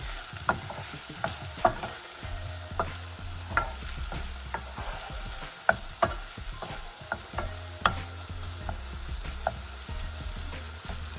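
Spices and green chilies cooking in a pan, a low steady sizzle broken by a regular series of sharp spoon taps and scrapes against the pan, close, no speech.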